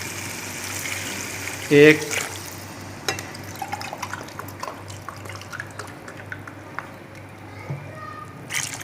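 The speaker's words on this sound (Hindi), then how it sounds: "अब हम इसमें पानी ऐड करेंगे।" Water splashes and trickles into a cooking pot for vegetable pulao at close range, with a brief louder gush early on and a few clinks, under a steady background hum.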